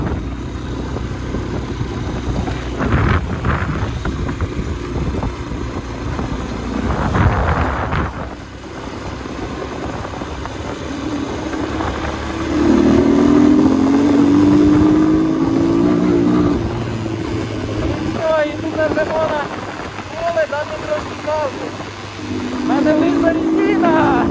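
Spark, Loncin, Kovi and Geon motorcycles ride together, engines humming and revving steadily with a louder rising pass midway, while people talk over the engine noise.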